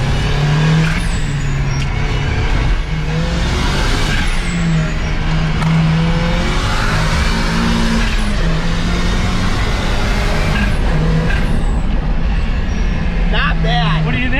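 A boosted Mazda Miata running on E85 drives hard through an autocross course, with a loud steady engine drone that rises and falls as it accelerates, close up inside the car, while people talk over it.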